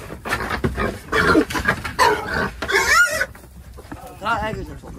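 A pig squeals loudly and repeatedly while being caught and grabbed by the ears for a whole roast, its shrill cries mixed with people shouting nearby.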